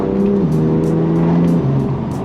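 BMW M2 Competition engine pulling hard under throttle, a loud close exhaust note with a steady droning pitch that dips briefly and settles, continuous over about two seconds with no talk.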